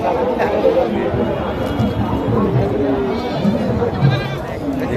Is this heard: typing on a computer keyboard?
no